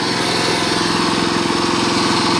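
Small engine running steady at about 1500 RPM on a tool for trimming Christmas wreath tips, a loud, even, buzzing drone that holds constant throughout with no talk.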